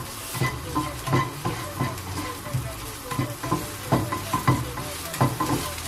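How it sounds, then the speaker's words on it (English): Chili and garlic sauté in a pan for a Thai basil stir-fry, a steady close sizzle broken by regular scraping and clinking strokes as the mixture is stirred. "saute until the chili and the garlic start to kick the smell"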